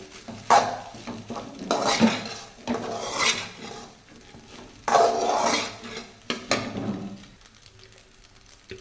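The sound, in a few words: stirring cauliflower pieces into rice in a pan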